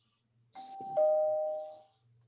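Doorbell-like notification chime from a computer during an online meeting: a short electronic two-tone ding-dong, the second tone ringing out and fading over about a second, clear and alone against near silence.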